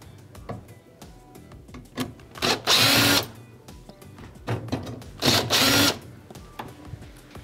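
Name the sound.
power driver removing Phillips screws from oven control panel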